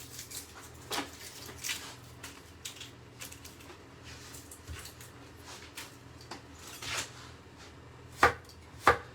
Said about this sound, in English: I'm going to chop up this onion